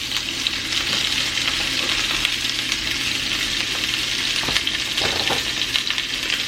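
Onions and peppers frying in olive oil in a heated pan, giving a steady, loud, close sizzle with a broad hiss and a few brief crackles and stirring bumps, and no voices.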